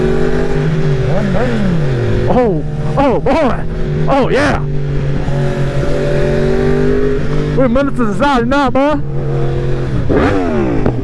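A 2020 Yamaha R1 fitted with an Austin Racing GP1R full exhaust, revving hard in repeated rising and falling bursts, loud and close, with a rider exclaiming between pulls.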